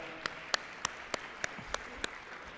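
Audience at a university athletics banquet clapping, rendered as a slow series of about eight distinct, evenly spaced claps standing out over a quiet room hum.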